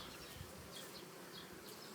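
Honeybees on a hive frame make a steady, soft, close buzz with individual bees whining past now and then, and no voices.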